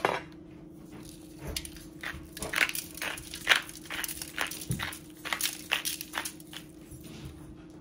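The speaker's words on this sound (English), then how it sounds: "Crushed black pepper." Black pepper being crushed with a series of soft, close crunching and grinding taps in an uneven rhythm, with faint kitchen clatter.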